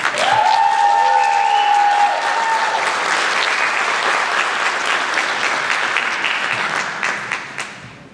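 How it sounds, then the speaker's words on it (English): An audience at a jazz camp concert applauds, full, steady clapping with a sustained tone or whistle over it at the start, gradually thinning and fading out toward the end, leaving a few scattered claps. "let's have a round of applause for Mr. Larry Zuaro."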